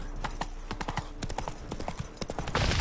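Roach, the horse in The Witcher 3, gallops with rapid, rhythmic hoofbeats close by, a loud clip-clop that builds toward a noisier rush at the end.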